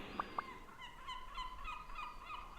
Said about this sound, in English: Seagulls just flew by in the sound environment it creates.